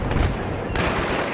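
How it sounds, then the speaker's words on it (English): A C4 charge goes off in a video game match on the Tehran Highway map: one loud, dense, continuous blast rumbling through the whole moment, with no voices over it. "That's C4, never mind."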